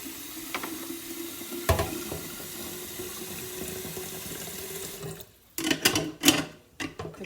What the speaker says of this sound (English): swish it around in the seeds